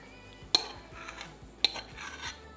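Spoon clinks against a plate or pan while restaurant-style chilli paneer is plated, two sharp metallic taps standing out over soft scraping and handling of utensils, close and fairly quiet, no talk.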